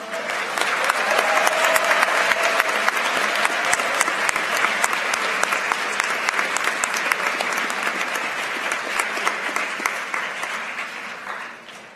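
Sustained applause from an awards-ceremony audience honoring math team members as they rise, dense steady clapping filling the hall for about eleven seconds before tapering off sharply at the end.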